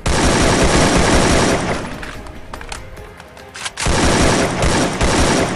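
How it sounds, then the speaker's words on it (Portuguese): Rapid bursts of AK rifle fire from the Free Fire battle royale game, loud and dense, pause for about two seconds of quieter background and then resume at full intensity. "Cara, essa AK, velho. O tiro dela sobe muito"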